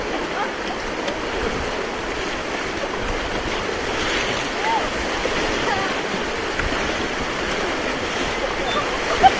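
Rushing river rapids on a rafting run at Tattapani near Shimla, a steady broadband roar of churning water that stays loud and even throughout, with faint voices mixed under the flow.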